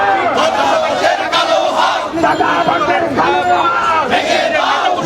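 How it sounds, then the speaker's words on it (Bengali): A large crowd of student protesters on a march at Dhaka University chants slogans in unison, many voices loud and close, rising and falling in a steady rhythmic cadence without pause. "তারা বিভিন্ন রকম স্লোগান দিচ্ছেন"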